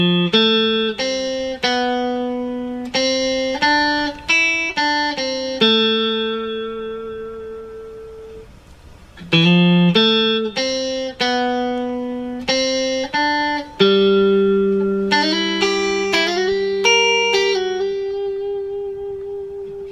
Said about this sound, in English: we'll play what I like to think of as the chorus, and it'll sound like this.